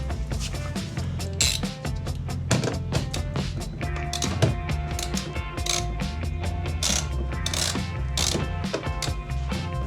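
A socket wrench ratchets in quick repeated clicking runs while bungee cords are fitted to a kayak, close and steady over a dense mechanical background, no talk.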